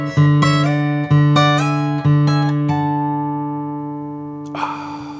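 A studio recording plays a bright Lydian climb over a pedal tone: clean guitar notes are plucked in a steady rising sequence over a held low note, then ring out and fade.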